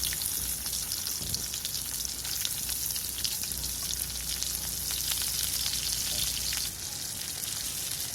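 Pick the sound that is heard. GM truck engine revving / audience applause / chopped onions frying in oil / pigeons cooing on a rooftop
chopped onions frying in oil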